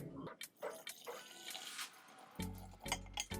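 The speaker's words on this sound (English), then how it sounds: "we're gonna fill it up with water" Water runs and splashes into a measuring cup in short bursts, close and fairly quiet, with pauses and small clinks between pours.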